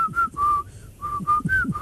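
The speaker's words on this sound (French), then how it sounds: "C'est vrai que c'est très marrant de siffler." A person whistles a short, bright tune in a series of sustained notes with brief gaps, heard clearly up close while a faint low murmur sits underneath.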